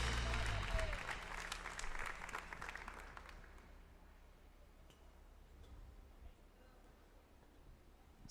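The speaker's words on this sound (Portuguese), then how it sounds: "Aplauda o Senhor." A church congregation claps during worship, a burst of applause that is loudest at the start and fades over the first few seconds, leaving quiet room sound with faint ticking.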